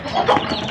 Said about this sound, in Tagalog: Yun yung aking sisiw guys.